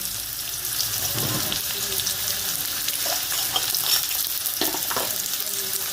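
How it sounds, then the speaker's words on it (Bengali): Potato pieces frying in oil in a home kitchen pan, a steady close sizzle throughout with occasional scraping stirs of a spatula, no talking. "আলুটা ভেজে নিচ্ছি"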